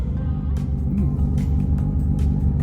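A Fiat Cinquecento Trofeo engine idles steadily, a dense low rumble with a faint periodic lumpiness and occasional soft clicks or taps, close and continuous without speech.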